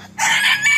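A rooster kept with a backyard flock of hens gives one loud, close crow that starts abruptly and holds strongly to the end.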